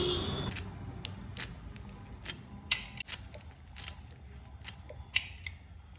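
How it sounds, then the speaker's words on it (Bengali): Fresh coriander leaves being cut into small pieces, a series of crisp, evenly spaced snips or chops up close, about one every second, over a faint background hiss. "তারপর একটু কুচকুচ কুচকুচ কুচকুচ করে ধনে পাতাগুলো কেটে নিচ্ছি"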